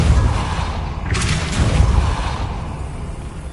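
A Depulso spell fires in Hogwarts Legacy on PS5 with a forceful whooshing burst about a second in, over a low rumbling game soundscape, loud and close, fading into ambient hum.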